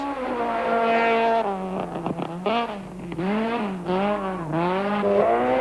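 Volkswagen Golf Synchro rally cars racing on the 1992 Algoa Rally, engines revving hard close by with rising and falling pitch through gear changes and a few sharp cracks midway.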